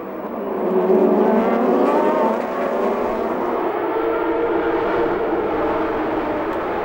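Formula Renault 3.5 race cars from the 2007 series roar away at a race start, a loud, sustained engine drone that swells early and then holds steady as the pack accelerates.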